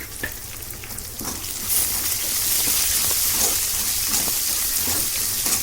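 Onion masala with ginger and garlic sautés in a pan, a steady crackling sizzle that swells louder after a couple of seconds and keeps hissing without talk.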